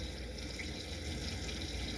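Hot water runs from a tap over a plastic pill bottle, a steady soft rushing stream with no talk.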